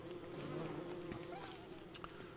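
Steady insect buzz of bees swarming around a pair of bee boxes in the Don't Starve Shipwrecked game, a continuous droning hum at moderate level with no talk over it.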